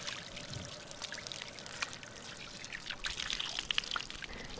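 Water poured over skin to rinse off poison ivy oil after cleanser, using mountain stream water outdoors; a steady close trickling and splashing pour runs throughout, with brighter splashes toward the end.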